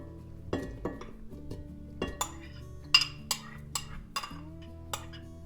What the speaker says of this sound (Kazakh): Енді осындай ыдысымызға езілген мята мен лимонды саламыз.